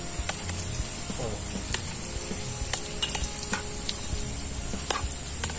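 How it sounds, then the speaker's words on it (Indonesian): Tempe fries in a pan of hot oil while cooking outdoors, a loud, continuous sizzle close by with sharp crackles and pops scattered throughout. "goreng tempe dulu mas bro."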